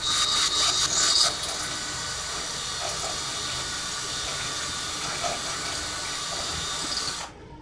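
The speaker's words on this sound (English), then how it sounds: "I did find a drill bit, so let's see if I can make these holes just a hair bit bigger" A close, high-pitched whirring grind of a drill bit enlarging holes in a DTG printer platen runs steadily for several seconds, then stops abruptly.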